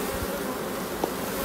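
Dense, steady buzzing of many honey bees close by at an open hive during an inspection, a continuous hum without pauses or voices.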